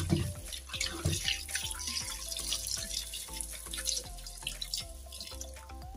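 Fish rubbed with salt are rinsed under a running kitchen tap, a steady close splash of water with intermittent drips and sloshing as the pieces are handled.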